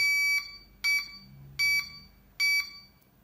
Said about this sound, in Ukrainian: Щось пікає.